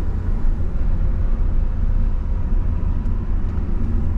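A car on a learner driver's lesson cruising with the accelerator released, its engine giving a steady, close low rumble and road drone from inside the cabin, with no talk.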